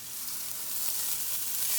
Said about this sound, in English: we're going to take this margarine and we're going to put it in our pan